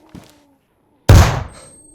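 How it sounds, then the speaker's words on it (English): A flashbang grenade detonates in the video game DayZ: after a small faint click, one loud sharp burst erupts about a second in, then decays into a brief hissing ring. "Let's actually flashbang ourselves and let's have a look at the actual effect up close"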